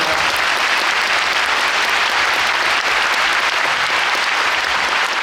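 Dense, steady applause from a concert audience at a performance, loud and sustained throughout with no break.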